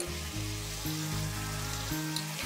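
Finely chopped potatoes and onions fry for poha in a pan, a steady, close sizzle that holds evenly throughout with no voices.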